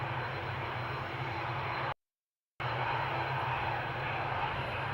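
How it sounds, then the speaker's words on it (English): A Vueling airliner rolls for takeoff at Amsterdam Schiphol, its engines a steady, fairly distant broadband roar, cut by one brief drop to silence. "So the Vueling is on its takeoff roll"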